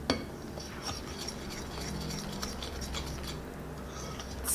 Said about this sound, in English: Now the fun part, I get to mix everything together.